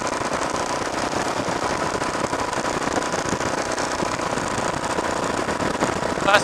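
A Harley-Davidson Sportster motorcycle passing by on an open road, its rumbling, popping exhaust heard over steady wind and engine noise from a riding motorcycle, building slightly louder near the end.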